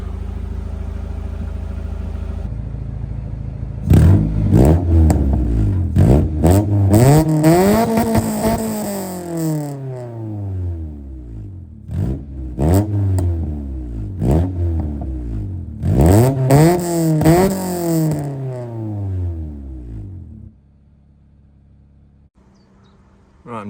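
1990s Honda car engine revving, starting up and climbing through several loud rising and falling revs in repeated bursts before dropping back to a quiet idle, close by.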